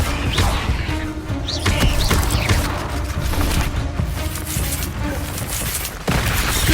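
Bombarda explosion spell cast in the Hogwarts Legacy video game during combat, a dense barrage of blasts, crashes and rumbling impacts continuing loudly throughout with brief shifts in intensity.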